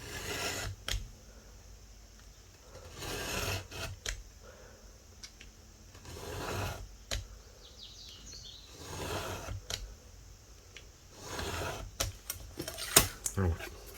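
A blade cuts straight through cardboard along a ruler for scrapbooking, making a series of short, scratchy strokes that repeat every second or two, close and moderately loud.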